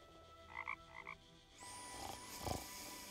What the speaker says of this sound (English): Try the frog now. Maybe the clicker frog will appeal to it more than my voice.